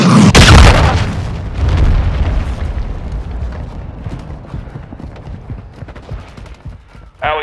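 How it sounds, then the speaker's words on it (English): A cruise missile explodes in Call of Duty Modern Warfare 2 multiplayer, a loud booming blast at the start followed by rumbling debris and scattered gunfire, with a radio voice briefly at the end. "Hostile cruise missile incoming."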